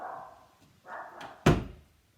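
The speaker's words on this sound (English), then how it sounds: "Let me shut the door." A house door pushed shut, with a soft creak and shuffle before one sharp, close thunk as it closes, then stillness.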